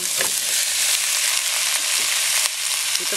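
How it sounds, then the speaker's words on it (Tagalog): Spare ribs and chicken fry in cooking oil with onions in a pan, giving a steady, loud, crackling sizzle with occasional sharper pops and spatters close by. "So, i-fry natin ng konti sa cooking oil."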